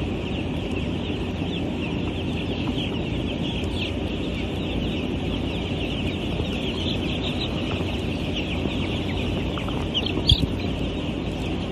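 Broiler chickens fill a poultry house with dense, continuous clucking and murmuring from a large flock, steady throughout with no talk.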